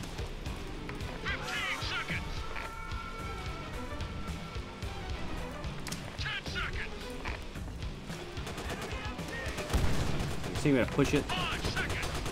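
Rapid gunfire in Call of Duty: World at War on Veteran difficulty, with bursts and shots scattered throughout the battle, someone speaking briefly over it and heavier blasts near the end.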